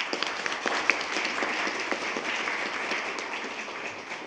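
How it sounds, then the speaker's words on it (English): Steady applause from an audience at a school board meeting honoring staff, a dense wash of claps sustained evenly throughout without breaks. "I think that deserves a round of applause in itself."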